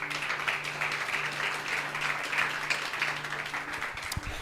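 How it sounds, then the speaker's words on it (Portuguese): A church congregation applauds during a sermon, sustained even clapping from many people filling the room at moderate volume, with no voices heard over it. "você pode aplaudir o Espírito Santo."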